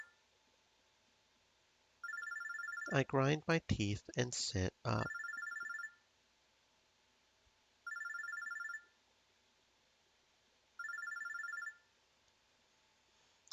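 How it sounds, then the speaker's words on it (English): A phone droid rings in Robotics;Notes Elite, a bright electronic trill repeating in regular one-second bursts with long pauses between, while a voice speaks briefly near the start. "I pick up my phone droid as it continues to ring annoyingly."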